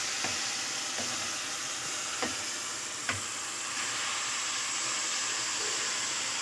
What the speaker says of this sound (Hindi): इसको थोड़ा सा हमने फ्राई किया।